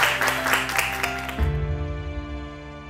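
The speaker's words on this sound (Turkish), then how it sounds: "Alkışlarla uğurluyorum ben." Studio audience applause on a Turkish TV cooking competition sends off contestants, a brief burst of clapping that fades as music with steady tones takes over.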